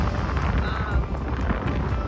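Steady wind buffets the microphone outdoors in Victoria, British Columbia, a constant low rumbling roar that continues without a break.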